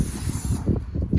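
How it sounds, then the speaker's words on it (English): Pam cooking spray hisses onto a barbecue grill for pork chops, a steady close spray burst for the first half second, then easing into a softer hiss over low rumbling background. "We're gonna spray some Pam on the grill, that way the pork chops don't stick."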